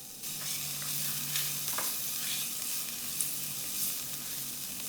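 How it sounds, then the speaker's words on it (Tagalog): Chopped onions sauté in hot oil in a pan for a potato stick dish, giving a steady, close hiss with faint stirring scrapes and no talking. "maggisa tayo ng sibuyas"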